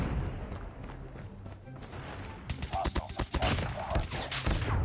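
Rapid bursts of weapon fire in a mobile shooter game, dense crackling volleys filling the second half after a quieter stretch, loud and close with game ambience underneath.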